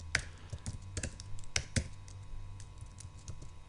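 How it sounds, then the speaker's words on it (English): Keys clack on a Mac computer keyboard in irregular bursts of close, crisp taps, with short pauses between runs of typing and no voices. "I'm using this kind of Mac keyboard now to figure out where the characters are"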